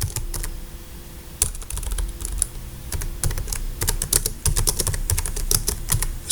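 Close computer keyboard typing in irregular bursts of sharp key clicks with short pauses between runs, heard alone without speech, while a line of program code is entered.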